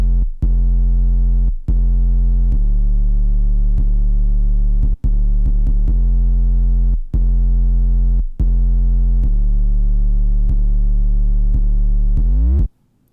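A deep 808 bass from an FL Studio beat plays loud sustained booming notes in a steady pattern, with sharp clicks at note changes and a rising pitch slide at the end, alone with no talk.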